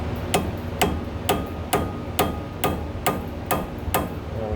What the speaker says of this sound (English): I went and found just a standard woodworking chisel. See if that'll get us started here.